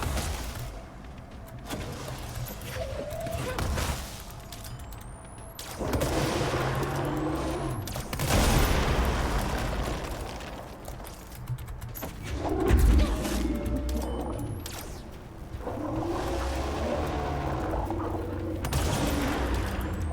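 Weapon fire in Control comes in several separate bursts of rapid shots, divided by short quieter gaps, amid a busy, mechanical backdrop.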